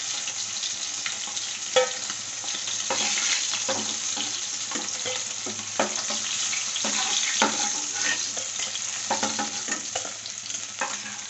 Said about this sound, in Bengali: এইভাবে একে একে সব মাছগুলো ভেজে নেবো।